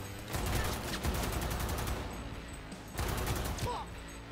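Gunfire in the video game Cyberpunk 2077: a loud burst of rapid shots, a second burst about a second later, then a pause before another short volley, all close and sharp.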